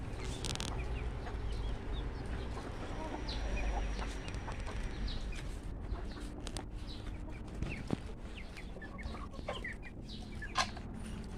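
Backyard hens cluck steadily over a busy farmyard background, with scattered nearby clucks and occasional sharper calls standing out.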